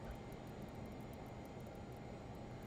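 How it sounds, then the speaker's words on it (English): Learjet 35 jet engines spooling up inside a flight simulator, a steady broadband roar with a thin high whine held at even loudness throughout, with no voices. "Engine instruments are spooling up as expected."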